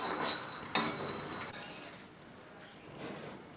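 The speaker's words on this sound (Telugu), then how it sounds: "ఇలా ఒకటి తర్వాత ఒకటి పప్పులన్నీ నిదానంగా వేయించుకుని" Lentils and peanuts are dry-roasted in a pan for idli karam podi, with metal clinks and scrapes of a spoon against the pan, louder bursts near the start, then a quieter, steady sizzle-free stir.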